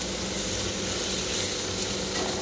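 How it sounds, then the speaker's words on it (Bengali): Meat frying in a pan with a little oil, garam masala and cumin powder, giving a steady, even sizzle that is close and unbroken throughout. "গরম মশলা দিয়ে এটাকে ভাজবো"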